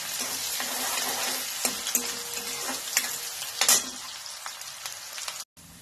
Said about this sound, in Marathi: आता कांदा चांगला भाजायचा, लालसर करायचा नाही आपल्याला, पण चांगला भाजायचा